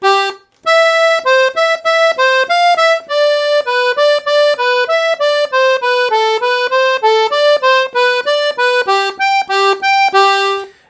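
Piano accordion playing a lively Brazilian forró melody, a quick run of clear sustained reedy notes with short gaps, loud and close with no voices.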